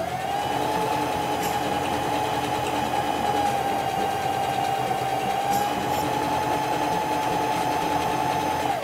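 A Singer Heavy Duty 4452 sewing machine fitted with a twin needle runs at steady speed, a continuous close mechanical whir and hum with a few faint clicks and no talk.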